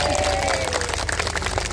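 An audience at a humorous religious talk by Gus Miftah claps in a brief crowded burst, with crowd murmur and stray voices blended under the steady patter.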